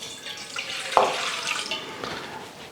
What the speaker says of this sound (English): We're putting water in a bowl